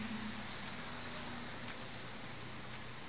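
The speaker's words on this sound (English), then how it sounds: "Oh, I hate rain." Steady rain falls outdoors during a fishing outing, a continuous soft hiss of drops on surfaces, fairly faint and unbroken, with no one talking.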